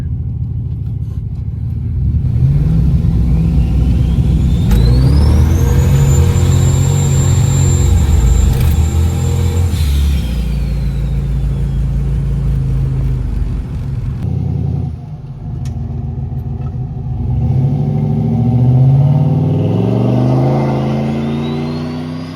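A turbocharged Dodge Diplomat sleeper with a two-step launch control revs hard and launches off the line, a loud rumbling engine roar with a rising turbo whistle, then revving again as it pulls away, no talk.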